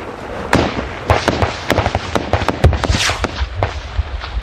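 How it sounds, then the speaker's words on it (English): Rapid, sharp gunshots crack close by in irregular bursts on open ground in Afghanistan, some overlapping, with a constant low rumble underneath. "their gunfire very close"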